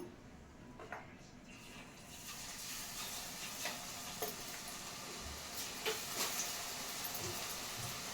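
Food fries in very hot oil with a continuous crackling sizzle, marked by intermittent sharp pops and ticks that grow slightly busier toward the end.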